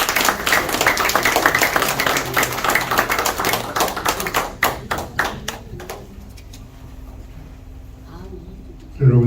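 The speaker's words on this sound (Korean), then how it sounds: "정 교수님께서 나오실 때 큰 박수로 환영해 주시기 바랍니다." Audience applause at the Potomac Forum welcoming a professor and former ambassador to the stage, many hands clapping loudly at first, then thinning into scattered claps and fading out before a voice begins at the very end.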